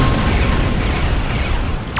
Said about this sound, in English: Get out of the way of explosion